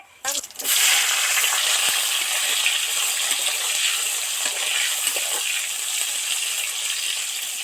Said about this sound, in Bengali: বেগুনটা সবার আগে তেলের মধ্যে দিলাম বেগুনটা তেলের মধ্যে ছাঁকা তেলে ভাজা হয়ে গেলে বেগুনটা আর ঘেঁটে যাবে না